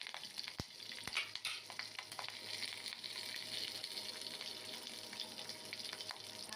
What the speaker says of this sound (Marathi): 2 हिरव्या मिरच्या टाकलेल्या आहे टाकून याच्यामध्ये थोडासा कढीपत्ता